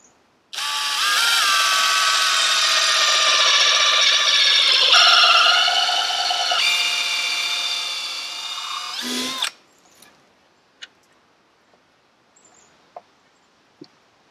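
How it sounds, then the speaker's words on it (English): A power drill bores a 1/4-inch hole into wood in a woodland workshop, whining loudly and steadily for about nine seconds with shifting pitch as it cuts, then stops, followed by a few faint clicks and taps. "I'm going to drill a hole in the side here."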